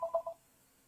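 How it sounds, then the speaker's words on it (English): A telephone rings with three quick electronic beeps in a row, moderately close and clean, then falls silent. "Phone just rang and it was a scammer."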